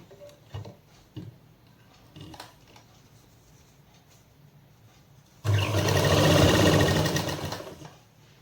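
A sewing machine stitches the neckline binding onto the round neck of a shirt, running in one steady burst of a few seconds after quiet handling taps. The motor is close and fairly loud.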